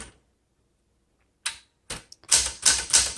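A 1974 Smith Corona Galaxie 12 manual typewriter clacks out a single key strike, then a short quick burst of several loud, close keystrokes after a pause, with no voices.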